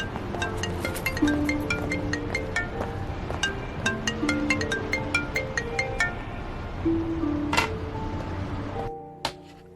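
A telephone rings on and on with no one picking up, its repeated tones sounding over a busy background murmur before cutting off near the end.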